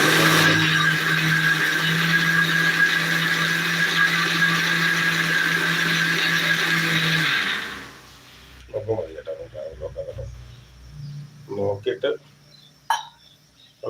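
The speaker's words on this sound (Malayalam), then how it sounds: "അണ്ടിപ്പരിപ്പും അതിനൊക്കെ തേങ്ങയും കൂടിയതായി മിക്സിയിൽ ഇട്ട് നമ്മൾ അരച്ചെടുക്കുന്നത്" A mixer grinder grinding cashews and coconut whirs loudly and steadily for several seconds, then stops; people talk afterward in the quieter stretch.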